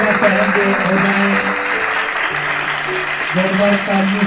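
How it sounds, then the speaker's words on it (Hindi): Loud applause from a gathered crowd at a retirement ceremony for a zonal education officer, a dense steady wash of clapping under a voice speaking over it. "जोरदार तालियां करेंगे हो जाए।"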